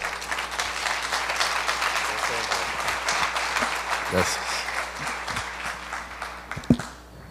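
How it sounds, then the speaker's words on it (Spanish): A church congregation applauds in a steady crackle of many hands for several seconds, fading near the end as a voice briefly speaks over it. "Yo creo que esos aplausos son para el Señor"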